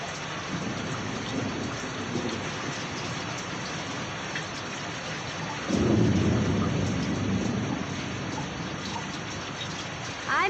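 Heavy rain falls steadily in a thunderstorm, a dense wash of drops with a deep thunder rumble that swells loudly partway through and lingers, with no voices.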